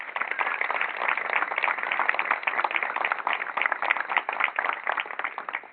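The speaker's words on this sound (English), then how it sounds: "So a round of applause for them, please." A crowd claps at an outdoor ribbon-cutting ceremony for a puppy enrichment center, a steady wash of applause from many hands that continues evenly, somewhat thin and distant.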